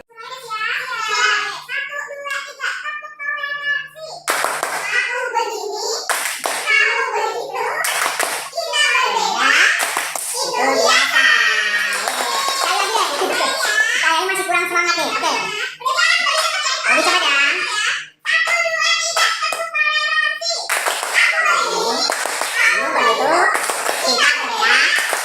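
A school class of children chants the tepuk toleransi clapping routine, led by the class leader, with rhythmic hand claps woven through lively young voices that fill the room for the whole stretch.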